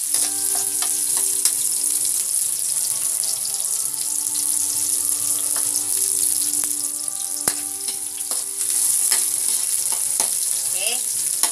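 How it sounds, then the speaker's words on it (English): Onions fry in a hot pan with a loud, continuous sizzle, a bright steady hiss broken by occasional crackles and stirring clinks. "Let the onions cook."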